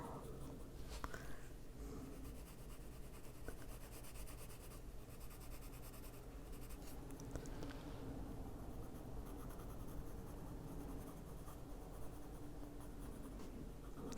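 A black coloring tool rubs steadily across an adult Christmas coloring page of Santa, making a continuous soft scratchy stroking sound that stays close and fairly quiet throughout with no talk.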